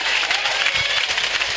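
Crowd applause at a political rally in Muzaffarpur, a dense, steady wash of many hands clapping that fills the whole moment without a break.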